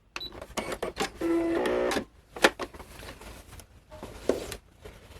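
A sewing machine stitches a Vash duster jacket, running over pins in several short bursts separated by pauses, close and fairly loud, with a longer steady run in the middle.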